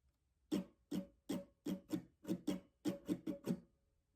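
Acoustic guitar plays the second outro strumming pattern of a song: about a dozen soft, close strokes in a steady rhythm with a quick cluster near the end, alone and without talking.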